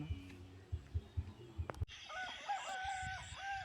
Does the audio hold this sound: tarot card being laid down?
no